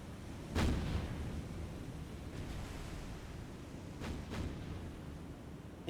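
An enemy ship fires naval guns in the War on the Sea video game. There are a few heavy booming shots, one early and a quick pair later, over a constant roar of wind and sea noise.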